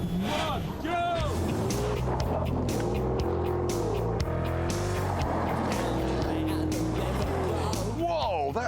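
A Holden Ute Maloo roars away from a race start, its engine loud and rising through the revs with gear changes, while people talk and exclaim over it.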